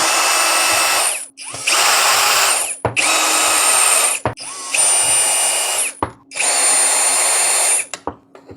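A power screwdriver backs out the case screws of a homemade, modified PC power supply, five loud whirring runs of a second or so each, separated by short clicks and pauses, close up with no talking.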